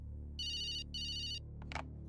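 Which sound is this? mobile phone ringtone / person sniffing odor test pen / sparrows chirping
mobile phone ringtone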